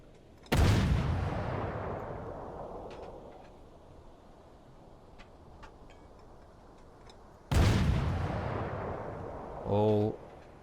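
Two heavy deck gun shots from a submarine in the game Uboat, each a loud booming blast with a long rumbling decay, roughly seven seconds apart, followed by a brief tonal mechanical whine.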